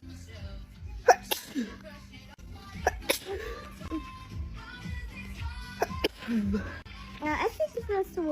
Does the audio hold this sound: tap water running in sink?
no